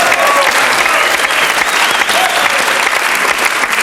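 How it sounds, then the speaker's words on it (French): Television studio audience on a game show applauding loudly and continuously, dense clapping with a few faint voices or cheers mixed in, sustained throughout. "C'est vrai qu'on applaudit encore le Sergent Garcia"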